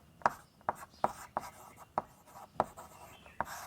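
Pen strokes scratching across paper, seven short distinct scrapes spaced about half a second apart, close and clear, while a Class 10 geometry theorem on triangle area and angle bisectors is written out.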